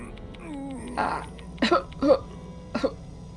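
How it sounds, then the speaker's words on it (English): A headmaster character in the video game Spirit Hunter: Death Mark II coughs in a few sharp, close bursts after a brief vocal sound, spaced irregularly over a quiet low hum. "The headmaster abruptly starts coughing."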